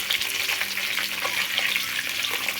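Ginger and curry leaves sizzle and crackle in hot oil in a pan, a close, steady frying hiss with occasional stirring scrapes, no talking.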